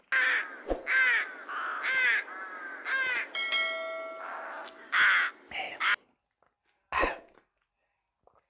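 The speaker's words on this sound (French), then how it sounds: "des petits corbeaux qui chantent" Crows caw in a rapid series of loud, harsh calls, some overlapping, with a brief high ringing tone in the middle, then a pause and one last caw alone.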